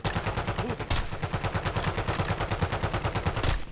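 Rapid automatic gunfire in the video game Warzone rattles in continuous bursts, loud and close, with a couple of sharper blasts standing out; no talking.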